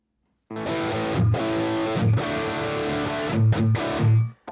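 Heavily distorted electric guitar chords through a Quad Cortex amp modeler ring out loud and buzzy, with a few choppy stops between strums, ending abruptly.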